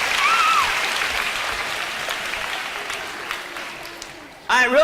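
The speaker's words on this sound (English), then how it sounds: "Give me a round of applause," An audience applauds after a motivational speaker's on-stage moment, a steady, fairly distant wash of clapping lasting several seconds, with a voice cutting in at the end.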